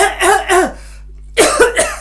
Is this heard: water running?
no